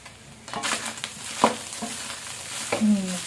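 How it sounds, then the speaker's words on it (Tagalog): Pork sisig, made from pig mask, ears, liempo and skin, fries and stirs in a pan with steady sizzling. Scraping and clattering strokes cut through at intervals, and no one speaks. "Prito na siya."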